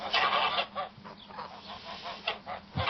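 A group of geese honks loudly and continuously, calls overlapping in an agitated, nearby chorus.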